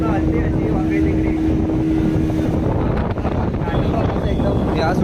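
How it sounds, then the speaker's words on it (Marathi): Strong storm wind buffets the microphone on a boat off the Konkan coast amid big waves, with a steady engine hum and rough water noise; someone talks briefly. "मोठ्या मोठ्या लाटा येत आहेत, प्लस वादळ सुटलं आहे पूर्ण."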